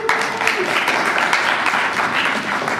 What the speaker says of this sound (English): Let's give him a standing applause